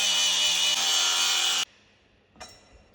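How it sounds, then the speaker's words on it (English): Cutoff wheel grinding through bolts on a Peterbilt 379 breather bracket, a loud steady high-pitched whine for about a second and a half that stops abruptly, followed by faint clinks and handling noise. "we're just gonna yak these off real quick with a cutoff wheel."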